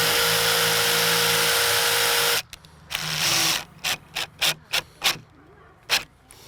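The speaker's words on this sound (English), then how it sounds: "I'm trying to get the screw into this wood, so I'm going to start here." A power drill or driver sends a screw into wood while building a raised garden bed: a steady loud whir for about two seconds, then a series of short, sharp bursts as the screw is driven home.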